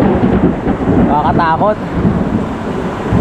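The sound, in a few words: thunder and lightning during heavy rain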